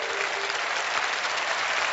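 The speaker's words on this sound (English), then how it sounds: "A huge clapping for this auspicious day of the birthday and anniversary day of the Maharaj ji." Audience applause at a birthday and anniversary assembly for Maharaj ji, a dense, steady wash of many hands clapping throughout, fairly close and even in loudness.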